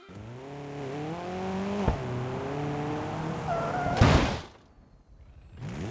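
Volkswagen Tiguan mod in BeamNG Drive, engine droning with rising harmonics, then a sharp bang and a loud crunching crash around four seconds, followed by a brief quiet lull and renewed noise.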